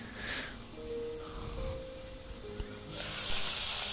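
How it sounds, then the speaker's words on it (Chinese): Fatty beef brisket frying in oil under a lid in a home kitchen gives a steady hiss that swells louder toward the end, with no talking. "慢慢煎，慢慢嚟，因为油烟会有少大嘅，系啊，因为有油，好多油啊啲牛"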